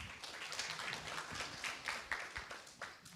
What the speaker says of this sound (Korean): 4조에게도 박수 함께 보내주세요